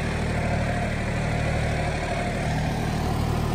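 A John Deere 5310 tractor with a power upgrade runs steadily in gear at about 1700 rpm, its engine a loud, continuous low rumble with a constant drone and no pauses.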